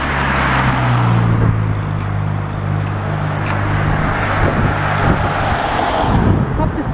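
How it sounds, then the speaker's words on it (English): Cars driving past on Waterloo Road, a Blackpool street, with a steady low engine and tyre rumble close by, a couple of louder passes, and wind buffeting the microphone throughout. "But these cars are coming past."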